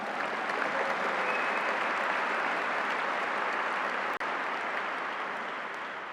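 Steady, dense applause from a large audience at a Boston Police Academy graduation ceremony, continuous clapping that holds at a constant level for several seconds with one brief dropout near the end.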